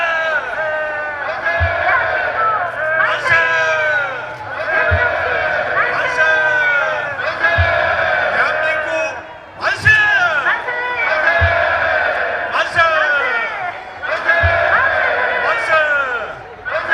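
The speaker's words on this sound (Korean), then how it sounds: "자, 마지막 힘찬 함성으로 자 같이 함께합니다" Crowd of marchers at a March 1st Movement independence reenactment street parade in Daegu, shouting together in repeated chant bursts with rising tonal voices, loud and close, with low drum-like thumps marking the rhythm.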